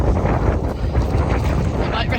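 Gusty wind buffets the microphone on an open gravel cycling route in Belgium, producing a constant low rumble and roar throughout.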